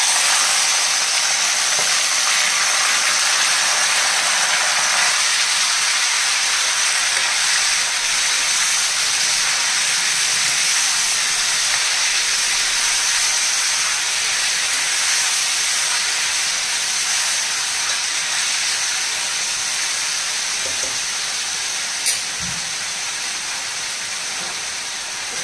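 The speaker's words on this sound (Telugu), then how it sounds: "ఆయిల్ బాగా వేడైందండి ఇప్పుడు కట్ చేసి పెట్టుకున్న ఈ టమాటా ముక్కలు వేసేసుకోవాలి" Chopped tomato pieces hiss and sizzle steadily in about 50 grams of hot oil while a tomato pickle is cooked, a constant close frying noise with no talk over it.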